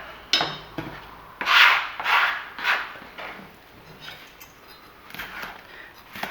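A knife slicing a chilli pepper on a cutting board, several rasping strokes close by, some louder and longer, then quieter cuts trailing off.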